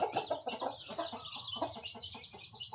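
Several chickens cluck and chatter in quick, overlapping bursts, fairly faint with a busy farmyard feel.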